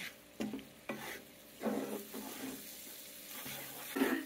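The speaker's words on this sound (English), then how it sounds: "we're going to mix that in to make sure that flour cooks up" Flour is stirred into chorizo in a frying pan, giving intermittent scraping spoon strokes over a soft, low sizzle, close and unaccompanied by voices.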